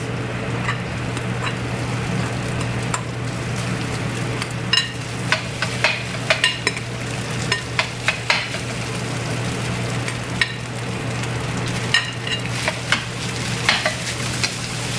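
Rice stir-frying in a wok with softened onions and garlic gives a dense, steady sizzle under a low hum, with scattered clicks of a spatula against the pan throughout, close and loud.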